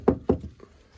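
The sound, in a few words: knocking on wood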